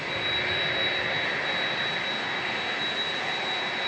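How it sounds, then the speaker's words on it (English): A steady, loud roar of jet airliner engines at San Diego International Airport, a broad continuous rush with a faint high whine, heard alone without talk. "I hear another 767 and FedEx 1654 on a 767 getting ready to roll."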